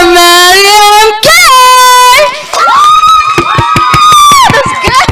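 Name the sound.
audience cheering and applause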